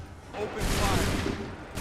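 Musket volley in Assassin's Creed 3, one broad roaring blast of many guns firing together, loud and close, with a short rumble trailing after.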